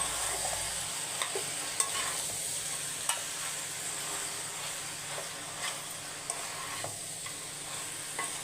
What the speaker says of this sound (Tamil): இதுக்கு அவ்வளோவா வெங்காயம் வந்து வதங்க தேவையில்லை